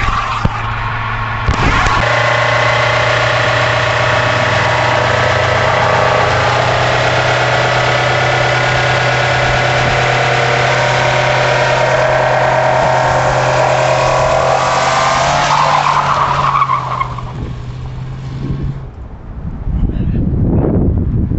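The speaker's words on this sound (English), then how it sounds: "Now you can hear the tire is starting to spin" 1967 Pontiac Beaumont doing a burnout, its engine holding a loud, steady high-revving roar with the rear tire spinning for nearly twenty seconds before the revs drop and die away to a brief lull and a short rev at the end.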